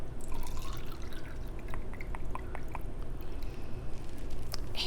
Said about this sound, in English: I'm going to pour some more water out of this cup